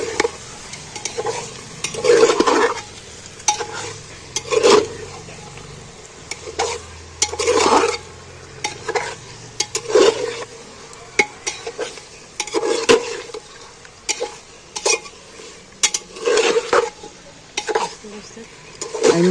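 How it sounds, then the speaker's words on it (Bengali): Mutton being sautéed with spices in a cooker, no oil added; rhythmic spatula strokes knock and scrape against the pot every couple of seconds over a low sizzle, with a faint voice and a low hum in the background. "এইবার আমি মাংসটা ভালো করে কষিয়ে নেব।"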